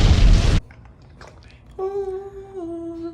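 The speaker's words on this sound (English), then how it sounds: "Insert explosion." A short, loud burst of noise like a blast cuts off abruptly, followed by quiet and then a steady electronic-sounding tone.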